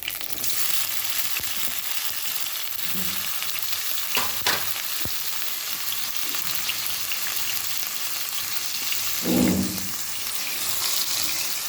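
Sliced bitter gourd sizzles steadily in hot oil in a pan, a close, continuous crackle with a few stirring scrapes and clinks along the way, no talking.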